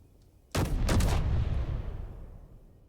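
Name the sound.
assault cannon firing in video game Space Engineers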